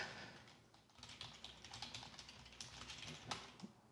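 Typing on a computer keyboard during single-board computer setup: soft, rapid key clicks pattering close by in an irregular stream, fairly quiet with no talk.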